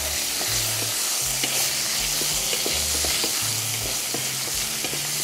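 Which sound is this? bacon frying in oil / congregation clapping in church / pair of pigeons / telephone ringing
bacon frying in oil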